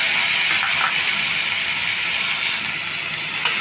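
Onion and dry coconut paste fries in hot oil in a pan, a steady loud sizzling hiss that stays constant and close from start to finish.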